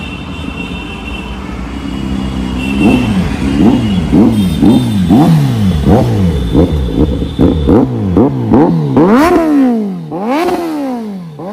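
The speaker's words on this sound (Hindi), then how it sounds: "अब मैं आपको सुनाता हूँ इसका एग्जॉस्ट का साउंड कैसा है" A 2024 Kawasaki Z900 motorcycle with a modified exhaust is revved up close in repeated sharp throttle blips, each rising and falling quickly, building to louder, faster bursts before it settles back to a rough idle.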